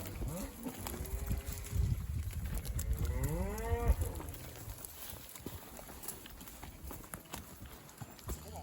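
Cattle low loudly nearby on a summer cattle drive in Utah, several drawn-out moos over shuffling hooves and background rustle, with no clear speech.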